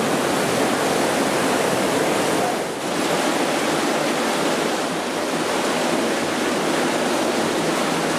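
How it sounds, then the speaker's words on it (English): A powerful waterfall, Cavern Cascade in the Watkins Glen gorge, roars steadily nearby, a dense, unbroken rush of falling water filling the space with constant white noise. "Cavern Cascade, the first of 2 waterfalls you can actually walk behind"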